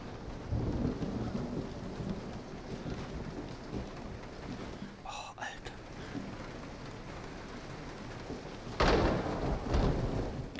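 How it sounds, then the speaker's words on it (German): Rain and rolling thunder outside in the horror game Resident Evil 7, heard as a steady wash of rainfall with deep thunder rumbles swelling at the start and again near the end, faint and distant. "Okay, draußen regnet's."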